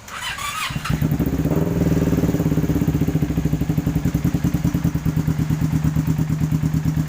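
A Kawasaki Ninja 250 motorcycle engine cranks briefly, then catches and settles into a loud, close, steady idle with a rapid, even pulsing beat.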